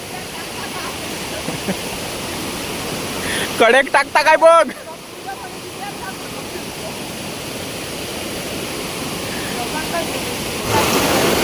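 Rushing stream water runs high and fast at a Konkan crab-catching spot, a steady broadband roar that fills the whole stretch while someone speaks briefly in the middle.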